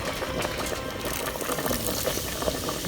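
Beef broth pouring into a pot for a steak and ale chowder, a steady liquid splashing and gurgling wash that runs continuously for a few seconds at close range, with no talking.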